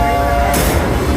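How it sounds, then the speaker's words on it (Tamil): A train rolls past close by with a loud, steady rumble that brightens into a hiss partway through, and no voices are heard. "அது அடுத்த ட்ரெயின்"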